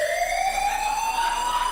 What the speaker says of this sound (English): Oh, no, that is the fire alarm.